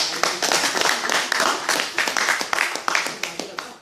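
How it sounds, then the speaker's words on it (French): A church congregation claps and applauds the Lord in rhythmic bursts, loud and close, with voices mixed in among the clapping. "On acclame le Seigneur."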